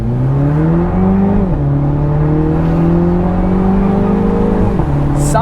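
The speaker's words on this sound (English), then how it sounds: "This engine is very soothing to the ears. This is a 4-cylinder engine." A car's 2-liter four-cylinder engine pulls loud and close under acceleration, its tone rising steadily through the gears with two brief dips at the shifts.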